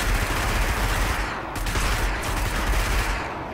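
Gunfire in a Destiny PvP match, striking a speeder vehicle: a loud, continuous roar of rapid automatic shots and impacts, dense and close, barely easing across the few seconds.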